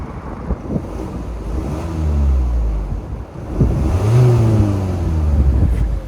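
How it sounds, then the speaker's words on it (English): A Ford Kuga Vignale engine runs and rises in pitch as it revs, then settles and revs again, steady and close. "Nice healthy sounding engine."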